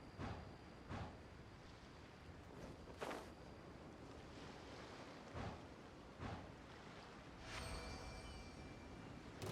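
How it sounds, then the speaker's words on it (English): A wind current in a video game rushes steadily and faintly, like open air over water, swelling into brief gusty surges every second or two. "A wind current? The winds have come at an opportune moment."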